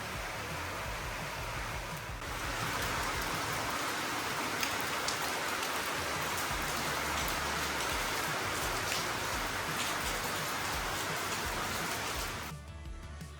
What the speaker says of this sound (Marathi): आपण आलो आहे आणि पावसाला सुरुवात झाली.